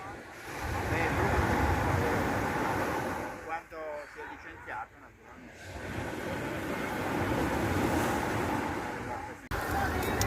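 Steady rush of surf and wind with a constant roaring wash, briefly dipping midway, heard outdoors by the shore.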